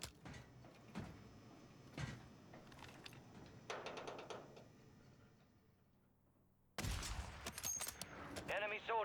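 A sniper rifle in the Warzone video game fires a few sharp, distant-sounding shots separated by quiet gaps, followed by a sudden loud burst of clattering gunfire and effects, with a voice speaking over the action.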